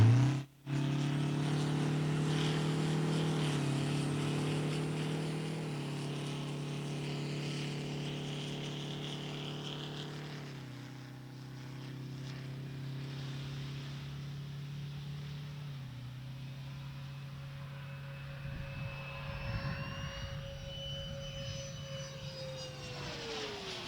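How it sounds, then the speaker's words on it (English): Space Shuttle Columbia rolls out on runway 33 at Kennedy Space Center after the STS-80 night landing, a loud, sustained engine roar and whine that slowly winds down, with a thump near the start. "Columbia rolling out on runway 33, concluding a record-setting shuttle mission"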